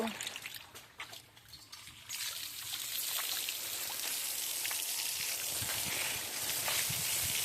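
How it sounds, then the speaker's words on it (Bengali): Motor-pumped pressure water spraying to clean a poultry farm, a continuous rushing hiss that builds after a couple of seconds and then stays steady and close. "এগুলো হচ্ছে এই মোটরের পানির প্রেশার দিয়ে এগুলো বের করতে হবে"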